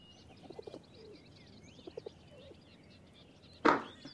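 A pigeon coos in a desert setting, with a few soft, low calls spaced across the first half and some faint chirping in the background, before a sharp brief rustle or flap near the end.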